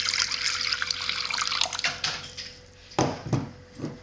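Water runs and splashes into a mixing bowl for sourdough, a continuous close pouring stream that stops near the end, followed by a few wet sloshes and drips.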